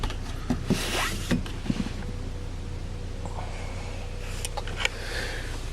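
The power moonroof on a 2012 Chevy Equinox LTZ runs with a faint, steady motor whine, set among soft clicks and rustling inside the cabin.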